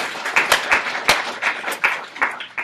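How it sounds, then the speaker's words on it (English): Audience applause for a guest speaker at a university arts lecture, a sparse scattering of claps with a few sharp, close individual hits standing out over a steady patter. "So please, a round of applause for Zach Hug."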